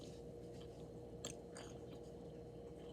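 Crusty homemade sourdough bread is bitten and chewed up close, giving a few sharp crunches over a steady low background, with no talking.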